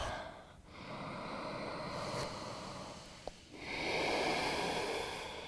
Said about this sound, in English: Feel and hear the resonance, the power of the breath